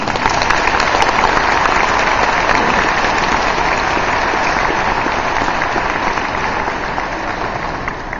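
Sustained, dense applause from a large audience at a graduation ceremony, steady and loud throughout with a slight fade near the end, no voices standing out.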